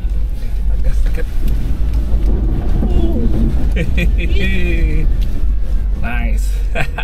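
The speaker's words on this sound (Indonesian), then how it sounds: "Puas banget kalau lewatin water crossing itu" Ford Ranger 4x4 on BFGoodrich KO3 tyres pushing through a muddy water crossing, a loud continuous low engine rumble inside the cab while people talk and laugh over it.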